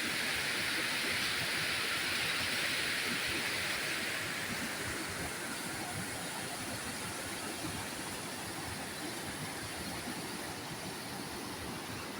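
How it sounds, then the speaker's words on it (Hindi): Rain beginning to fall over a camping spot beside a tent made of parachute fabric, a dense, steady hiss that fills the whole clip, slightly louder at the start and then holding level, with no voices. "बारिश शुरू हो गई है।"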